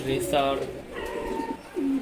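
Male pigeons, Giribaj and racing birds, coo close by in a loft, giving a few short throaty calls. Bursts of talk-like sound come and go between them.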